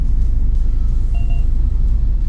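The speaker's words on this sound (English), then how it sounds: "If you can hear those beeps, that's because the parking sensors around the car while it's in drive are quite sensitive" Parking sensor warning beeps from a Mahindra Thar Roxx SUV in drive, a short pair of faint electronic tones around the middle, sitting over steady loud road and engine rumble.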